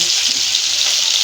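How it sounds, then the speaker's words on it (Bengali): Fish frying in a pan in a home kitchen, giving a steady, close hiss of sizzling oil that holds evenly throughout, with no talking. "এই হলো আমার মাছ ভাজা"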